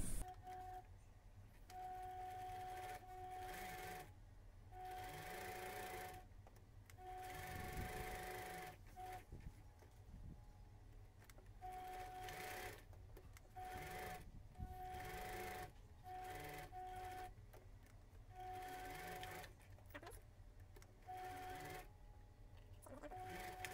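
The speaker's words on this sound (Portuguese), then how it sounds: "Vamos costurar em volta, deixando uma abertura de três dedos para a gente virar." Sewing machine stitching around fabric to make a homemade face mask, running in repeated bursts of steady mechanical whirring with short pauses between runs, close and fairly quiet.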